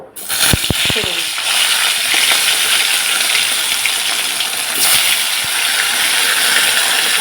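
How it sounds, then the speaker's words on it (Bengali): Hilsa fish pieces frying one by one in hot oil in a wok, a loud, steady hiss and bubbling that runs throughout, with a few sharp clinks near the start. "আমি এক এক করে ইলিশ মাছগুলো ভেজে নেব খুব হালকাভাবে ভাজবে"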